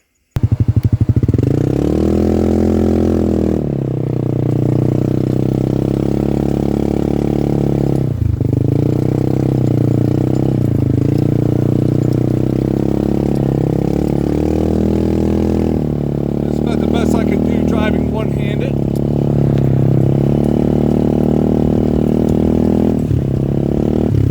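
Off-road buggy with a swapped engine, two-wheel drive, running loud and close throughout a ride, a steady droning engine note that rises and falls with throttle changes, with clattering and rattles over bumpy ground.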